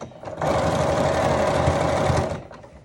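A sewing machine runs a top stitch through fabric while making a Yup'ik kakivik, a steady close whir lasting about two seconds that starts and stops cleanly.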